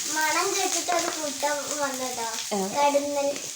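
Mustard seeds, curry leaves, ginger and garlic sizzle and crackle in hot oil, a steady hissing fry running under a voice talking close by throughout.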